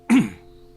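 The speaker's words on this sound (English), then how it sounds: "Artem seems to choke on something as he begins coughing furiously" A man gives a single sharp, close cough that fades quickly into quiet.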